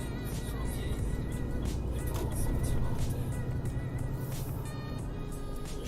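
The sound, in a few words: car driving on the road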